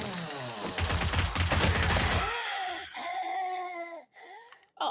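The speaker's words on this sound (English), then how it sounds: "I guess I had to shoot some zombies eventually" Rapid bursts of gunfire at zombies in a video game, loud dense shots for about two seconds, followed by quieter voice-like tonal sounds and rustling.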